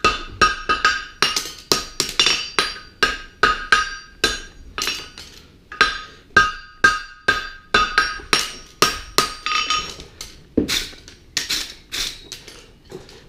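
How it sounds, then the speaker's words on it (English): Ringing hammer blows forge a horseshoe around the bick of an anvil, struck in quick rhythmic bursts of several hits with brief pauses between, loud and close with bright metallic clinks. "we're just forging it nicely around the bick until we get the shape that we want"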